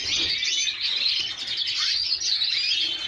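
Many small birds chirp and twitter continuously in an aviary, a dense, busy chorus of overlapping high tweets filling the space with no pauses.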